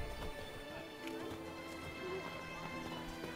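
Horse hooves clip-clopping steadily as a rider's mount moves along in the Witcher 3 video game, a continuous rhythmic patter under game music and ambience.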